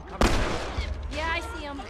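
A single sharp rifle shot in The Last of Us booms loud and close, followed by a rumbling tail, with someone talking over the rest.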